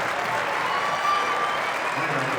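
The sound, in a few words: Rutgers crowd cheering and applauding a wrestling tech fall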